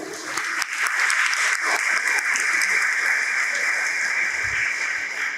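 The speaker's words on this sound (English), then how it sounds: "the coordinators of today's program, deserve a big round of applause." A large assembly gives a sustained round of applause for the program coordinators, dense and fairly loud clapping that holds steady for several seconds with no voice over it.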